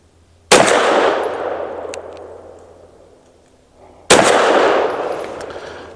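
Two loud pistol shots from a Tisas PX 9 Duty Comp compensated 9mm handgun firing MagTech 95 grain jacketed soft point rounds, each a sharp blast followed by a long ringing decay, spaced a few seconds apart outdoors.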